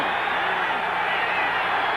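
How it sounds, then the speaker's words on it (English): A football stadium crowd at a Rams home game against the Lions roars in a dense, sustained wash of noise. It holds steady and loud from start to finish with no breaks. "Oh, this crowd roaring now."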